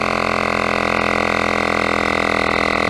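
A portable tyre pump inflates a Zontes 310X motorcycle tyre with a loud, steady mechanical drone that runs close and unbroken throughout, with no talking.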